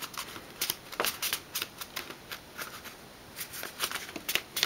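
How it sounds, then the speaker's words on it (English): A 5x7 paper card being folded and creased with a bone folder gives a run of crisp, close scraping and rustling strokes, irregular and fairly quiet, with no talk. "Use a bone folder to get a nice crease in that for both sides."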